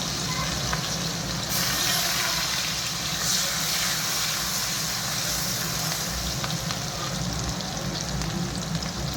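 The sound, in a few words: onion and green chili frying in oil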